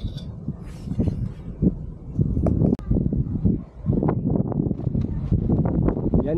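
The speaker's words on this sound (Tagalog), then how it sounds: "palakas pa ng palakas ang hangin." Strong gusts buffet an outdoor campsite in cold weather with light rain, a dense, continuous broadband rush with flapping swells rising and falling throughout, loud and close with no voices.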